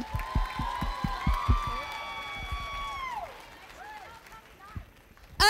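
At a high school prom fashion show event, a few loud, heavy claps and a bit of crowd noise sound at the start, then a sustained whistle-like cheer and whoops rise over a quieter room.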